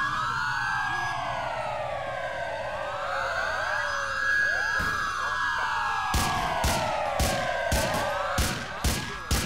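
Police sirens in GTA IV wail and sweep continuously, several overlapping rising and falling tones close by, with bursts of sharp gunfire-like cracks breaking in toward the end.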